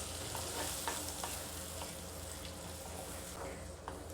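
Wet stirring and scraping of anchovy fish curry in a hot pan over a low, steady sizzle, with occasional soft clinks of a utensil; quiet and close.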